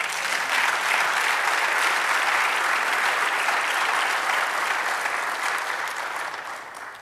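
A church congregation breaks into loud, sustained applause, with many hands clapping in a dense wash that holds steady before easing slightly at the end.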